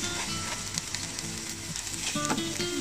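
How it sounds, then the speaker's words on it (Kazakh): Rice frying in a little oil in a frying pan gives a steady, close sizzle with soft stirring scrapes throughout, no voices. "Осылайша күрішімді біраз сковородкада қуырып аламын."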